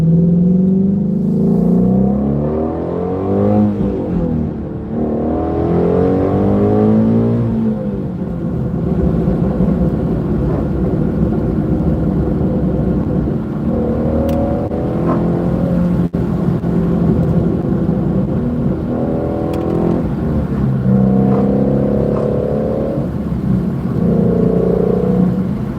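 A Ford Shelby GT350 with a manual gearbox revs loudly while being driven, its engine note rising and falling through repeated accelerations with a steady rumble throughout, close and continuous with no talking.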